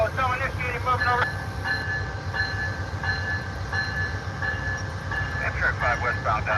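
Amtrak California Zephyr passenger train pulling away from the station in Ottumwa, Iowa, with a steady low rumble and rolling clatter throughout, a radio-style voice speaking over it.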